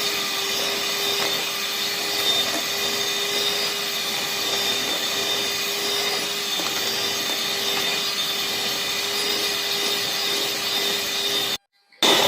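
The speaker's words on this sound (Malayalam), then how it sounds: "ക്രീമിനെ നല്ല രീതിയിൽ ഒന്ന് ബീറ്റ് ചെയ്ത് എടുക്കണം" An electric beater whips cream for a chocolate cake with a loud, constant motor whine that holds steady throughout, then cuts off abruptly near the end.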